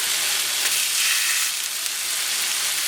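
Thick Gascon pork chops sizzle steadily on a very hot plancha, a loud, continuous frying hiss with no voices.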